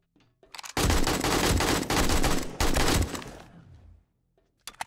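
AK rifle fire from the zombie survival game 7 Days to Die, a loud sustained burst of automatic shots lasting about three seconds, with one short pause in the middle, then tapering off into quieter sounds.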